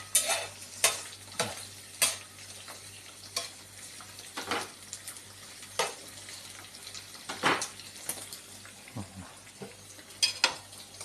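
Beef skin deep-frying until crispy crackles and sizzles in hot oil, broken by repeated sharp scraping and clattering strokes of a utensil against the pan, close up with no talk.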